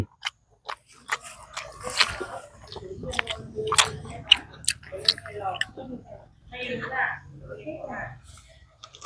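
Close, crisp chewing of crunchy sausage with sharp crunchy bites repeating irregularly, soft murmurs and breaths in between, no clear talking.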